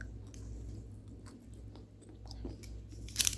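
Someone chews crunchy-topped Hawaiian chocolate up close. The quiet, irregular crunches and bites are set against a low background hum, with a sharper crackle near the end.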